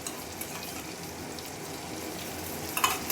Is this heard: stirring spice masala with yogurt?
yes